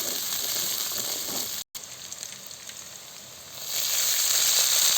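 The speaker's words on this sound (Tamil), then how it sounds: "பூண்டு வெங்காயம் நல்லா வணங்கிட்டுங்க" Garlic and onion sautéing in a pan for manathakkali vathal kuzhambu, a steady close sizzle and hiss with a momentary cut, then swelling louder toward the end.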